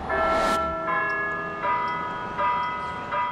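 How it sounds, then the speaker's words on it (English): A church bell at Shaw University in Raleigh, North Carolina tolls with a loud first strike, then several ringing strokes about every three-quarters of a second, each leaving a long metallic hum. "For whom does the bell toll?"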